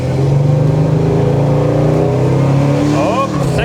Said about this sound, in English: Here we go. Speed test action.